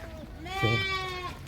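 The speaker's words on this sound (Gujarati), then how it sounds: "તો બકરા આવી ગયા છે" Goats on a farm bleating, one clear close wavering bleat of about a second rising over low background noise.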